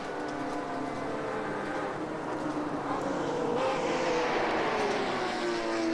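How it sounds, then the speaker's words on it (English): Porsche GTE race car engine in the Automobilista 2 racing game, a continuous loud rasping drone with a steady harmonic whine that climbs in pitch toward the end, heard alone throughout. "That is a beautiful sounding Porsche."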